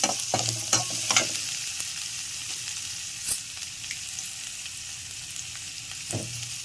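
Seasoning spices with turmeric sizzle and fry in a pan while a spoon stirs, a continuous crackling hiss broken by a few sharp scrapes and clinks.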